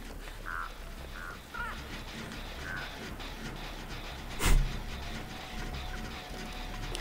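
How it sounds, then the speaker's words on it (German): Several caws from a crow in the game Dead by Daylight, spaced across the clip over a steady, low ambient drone, with a brief louder clank partway through. "Wieso fliegt da so ein Vogel rum?"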